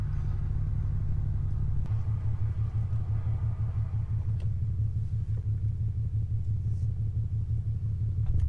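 An Infiniti G37 engine idles at operating temperature, a steady low rumble with an even pulsing throb that shifts slightly in pitch partway through, close and loud with no talk.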